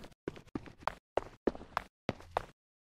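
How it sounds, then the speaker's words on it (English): Game footsteps from an Unreal Engine 5 demo, about seven crisp, evenly spaced steps that stop with clean silence between them, close and dry with no other sound. "if we hit play, we've got our footsteps"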